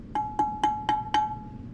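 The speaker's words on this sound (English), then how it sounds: "That's the sound of my coffee cup." Five light, evenly spaced clinks of a ceramic coffee cup, each with a short ringing tone, close by and alone.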